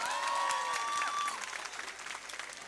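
An audience at the Pakistan Literature Festival claps for Syed Ali Shahrukh during a stage conversation, a dense, steady burst of applause for just over a second that then thins out, with some faint tonal sound above it.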